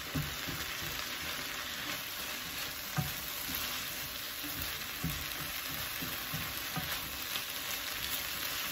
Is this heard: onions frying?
yes